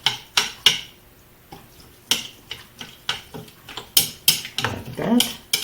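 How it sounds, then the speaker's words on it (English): Vegetables are stirred into noodles and eggs with a utensil, giving a series of sharp clinks and scrapes against the pan, some spaced and some in quick clusters, with soft sizzling between them. "And we're just gonna stir this into it."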